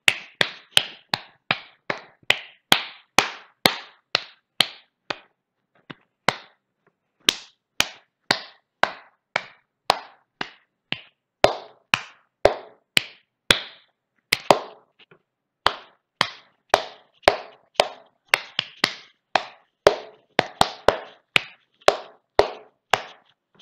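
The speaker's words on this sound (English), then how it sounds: "That was a tune with claps" Hand claps tapping out the rhythm of Beethoven's Ode to Joy, a steady run of sharp, close, dry claps in phrases with brief pauses between, no talking.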